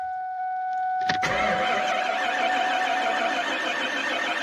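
A rebuilt engine in a 2003 Mustang GT cranks over after a short high whine, then a steady starter-driven churn and rising engine noise carry on to the end, close and fairly loud with no talking.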